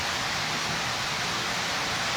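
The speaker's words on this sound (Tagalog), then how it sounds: "lumakas na naman yung ulan" Heavy rain pours down in a steady, dense hiss that fills the whole moment, loud and unbroken, with no voices over it.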